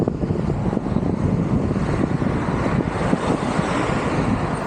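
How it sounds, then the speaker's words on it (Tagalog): Continuous strong headwind on a mountain bike ride roars across the microphone in a dense, unbroken rumble with no voices, steady and loud throughout. "Grabing hangin."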